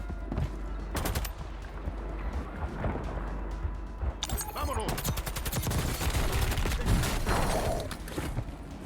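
Gunfire in the video game Warzone, rapid bursts of automatic shots and single cracks crowding together in a dense, loud exchange, with a voice talking over it.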